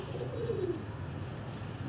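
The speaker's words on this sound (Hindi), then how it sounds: "आपके ये जितने भी कबूतर हैं, ये देखने में भी खूबसूरत हैं और उड़ने में भी अच्छे हैं" Pigeons kept by a bird keeper coo in a low, rolling murmur, a soft steady warble near the mic with faint chirps over a continuous low background hum.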